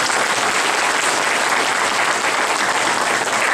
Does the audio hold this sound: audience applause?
yes